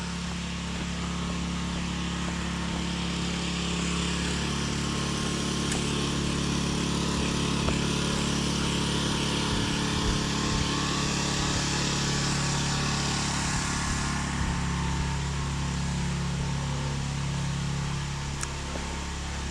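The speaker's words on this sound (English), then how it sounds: "It's a loud enough generator." A loud generator engine running steadily nearby, a constant droning hum with a buzzy high whine on top, unbroken for the whole stretch, no talk.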